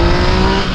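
Remapped Yamaha MT-09 motorcycle engine roaring loudly at high revs, a dense, close, continuous growl with no pause.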